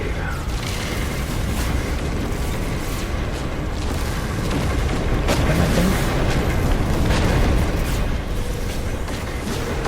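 A positron ejector weapon fires nonstop in a space combat video game, a dense, loud wash of crackling bursts and booming blasts with scattered pops across the whole stretch.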